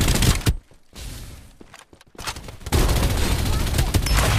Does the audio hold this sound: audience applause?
no